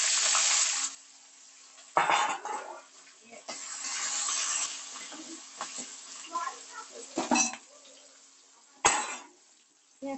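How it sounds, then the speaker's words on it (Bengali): Chopped onion drops into hot oil already holding crushed cloves, cardamom and bay leaves, setting off a loud burst of sizzling that fades, then stirring and a few sharp clinks follow, with a voice speaking at intervals. "এবার আমি এর মধ্যে দিয়ে দেবো বন্ধুরা পেঁয়াজ।"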